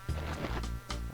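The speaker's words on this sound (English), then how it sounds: "Evening cicadas." Evening cicadas buzz in the Animal Crossing GameCube video game, a droning insect chorus that pulses in a few swells, moderately loud with no talking over it.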